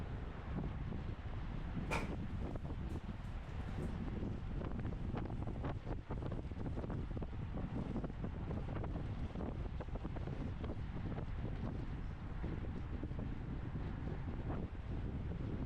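A strong headwind blows across the microphone during an open 50+ bicycle road race in California, making a constant low buffeting roar with gusty fluctuations and no speech.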